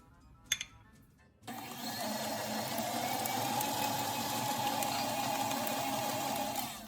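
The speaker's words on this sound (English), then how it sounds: "Add the egg and mix it a little longer." Electric hand mixer beating beignet dough after an egg is added, a steady close motor whir starting abruptly after a few faint clicks and running continuously.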